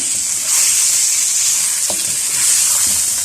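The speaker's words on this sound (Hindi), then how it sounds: "अब इसको अच्छी तरह से इसको फ्राई करना है" Chicken frying in a karahi for Shinwari chicken karahi, a steady loud sizzle with occasional stirring scrapes, close and alone with no talk.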